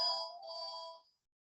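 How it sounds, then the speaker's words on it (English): A phone rings once, a faint two-tone electronic chime lasting about a second before falling silent. "I had to mute that because of the phone"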